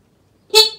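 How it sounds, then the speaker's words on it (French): A single short honk of a Yamaha TZR motorcycle horn, loud and close after a moment of silence, being tested on a wrecked bike under restoration. "Klaxon, ok."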